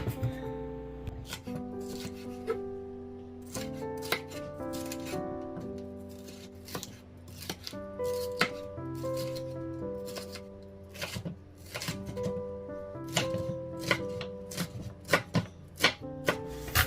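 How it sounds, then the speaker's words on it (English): Red pepper being chopped with a knife for spring rolls, a run of sharp, fairly loud chopping strikes against a board, steady at times and quicker in bursts, over a constant background of music. "Then let's chop our red pepper."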